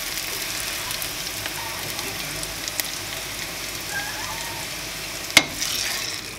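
Caramelized onions fry in oil in a pan with a continuous, fairly loud sizzle, broken near the end by a single sharp clink of a utensil.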